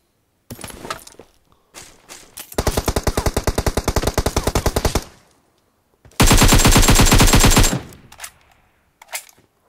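Automatic weapon fire in the mobile battle royale game PUBG Mobile, with two long loud rapid bursts and a few shorter shots, close and dominant, separated by brief gaps.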